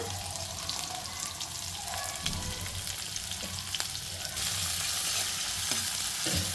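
Garlic, green chilli and onion fry in hot oil for vegetable noodles, a loud, continuous sizzle with scraping stirs running throughout and swelling brighter near the end.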